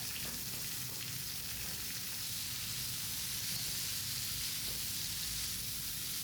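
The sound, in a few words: chopped papaya being sautéed in a pan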